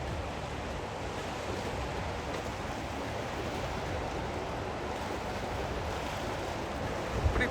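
Fast-moving water in a Canadian forest rushes steadily and close by, a dense continuous roar that holds its level throughout with no voices.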